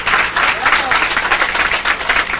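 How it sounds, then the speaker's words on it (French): An audience at a meeting of Ivorian community women with the First Lady breaks into steady, loud applause, dense clapping filling the room evenly throughout. "Je voudrais que vous puissiez applaudir"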